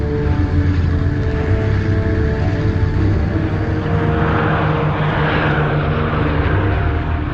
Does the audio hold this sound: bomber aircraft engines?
yes